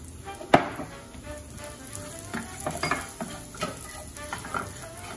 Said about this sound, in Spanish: Agregamos el ajo en el aceite de olivo precalentado y agregamos un poquito de sal